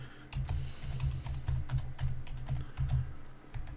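A long password is typed on a computer keyboard in quick bursts of close, clicky keystrokes with brief pauses between runs.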